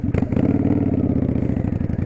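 Kawasaki Vulcan 900 Custom Special Edition motorcycle engine while riding on a back road, a close, steady low-pitched rumble with a rapid even pulse throughout.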